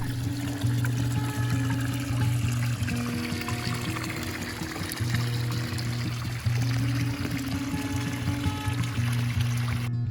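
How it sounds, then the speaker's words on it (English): Continuous splashing and pouring water from an outdoor fountain running steadily nearby, with a constant trickling texture and no voices. "fountains of water that were just so beautiful under yellow fallen leaves"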